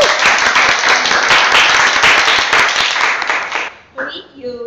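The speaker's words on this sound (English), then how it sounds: "a round of applause to Chloe?" Loud, close applause from a Toastmasters club meeting audience after an icebreaker speech, dense clapping that runs for nearly four seconds and then cuts off as a voice begins talking.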